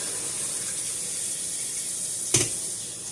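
Tap water runs steadily as sauerkraut is rinsed in a sink, a constant close hiss of flowing water with one brief splash or clatter near the end.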